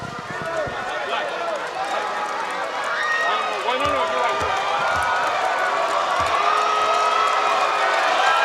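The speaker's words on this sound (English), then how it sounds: "Crowd really letting Olujobi hear it." A basketball crowd jeers a player during a New Taipei Kings versus Hsinchu Toplus Lioneers game, steady loud arena noise with squeaking sneakers and thuds, under continuous commentary.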